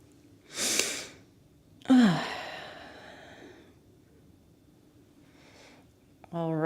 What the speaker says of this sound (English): We're going to take 3 more breaths here.